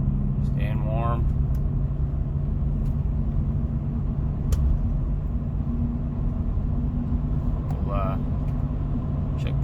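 A 2007–2011 GMC Yukon or Chevy Tahoe/Suburban SUV cruising at about 65 mph on a highway fills the cabin with a steady, loud low engine drone and road rumble, with brief faint voice-like sounds passing over it.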